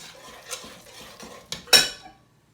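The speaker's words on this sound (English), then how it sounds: "And then we're going to whisk it smooth." A roux of flour and fat being whisked smooth in a pot for pasticcio, with a few soft metallic scrapes and taps of the whisk and one sharper clatter near the end, fading to quiet.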